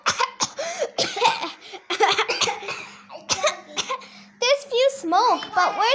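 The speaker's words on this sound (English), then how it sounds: "I'm just coughing." A child coughs several times in short bursts amid lively children's speech and some laughter, the voices close and loud around the coughs.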